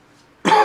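A single sharp, close cough bursts out after a near-silent pause, from someone who has just eaten a Yellow Carolina Reaper pepper.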